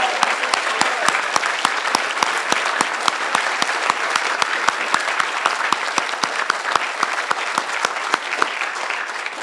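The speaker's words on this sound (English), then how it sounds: "I'd like to invite you all to give another tremendous round of applause for our incredible faculty and staff team" An audience at a 2025 school award ceremony applauds its faculty and staff, steady loud sustained clapping from many hands running throughout with sharp individual claps standing out.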